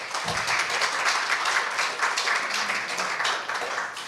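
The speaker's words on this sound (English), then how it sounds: "Let's have a big round of applause for all of us who are here today to celebrate this day." An audience applauds at a Women's Day community event, a dense, steady wash of many hands clapping that fills the whole stretch at even loudness, with a brief low thump near the start.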